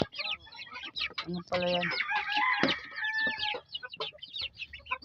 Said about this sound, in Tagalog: 2 months old. Aking mga sisiw.